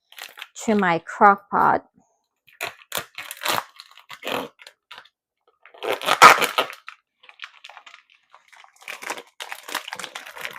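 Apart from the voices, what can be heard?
opening a plastic package of ham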